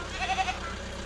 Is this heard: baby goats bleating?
yes